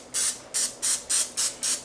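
Olive oil sprayed onto BBQ ribs from a pump bottle: six short, even hissing bursts in a quick regular rhythm, close and crisp with brief gaps between.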